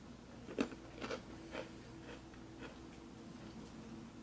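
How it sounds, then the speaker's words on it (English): Tiny crunchy chocolate chip cookies from an XMRE 2015 ration are bitten and chewed, with three or four faint, brisk crunches early on and then quiet chewing close to the microphone. "they do have a crunch like a regular cookie"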